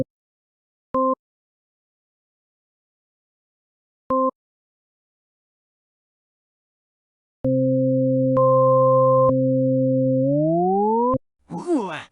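Basic synth notes in a beginner music exercise: two short isolated beeps, then a sustained tone that glides smoothly upward in pitch, ending with a quick rising sweep.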